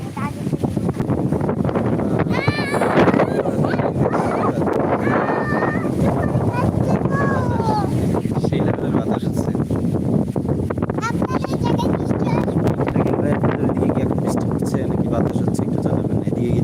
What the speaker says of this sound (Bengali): আর বাতাস হচ্ছে প্রচুর বাতাস